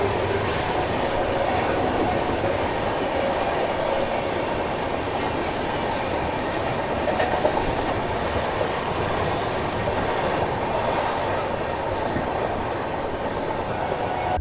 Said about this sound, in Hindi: सामने क्रॉस हो रही है नई दिल्ली भुवनेश्वर राजधानी एक्सप्रेस।